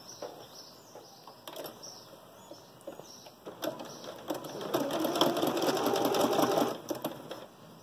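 A sewing machine stitches a fabric face mask, its rapid mechanical whirring starting and stopping in short runs, then building to a louder sustained burst, with faint bird chirps in the background.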